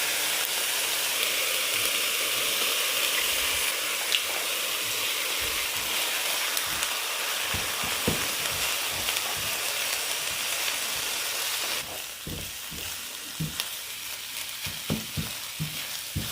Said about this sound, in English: Get that thawed out while the sausage is browning.